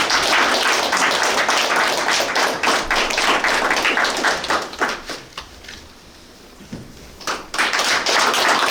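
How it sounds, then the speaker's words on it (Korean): Steady applause from a church congregation welcoming a preaching pastor at an artists' prayer gathering in a Seoul church. Dense clapping briefly thins and softens near the end, then swells again. "큰 박수로 환영합니다."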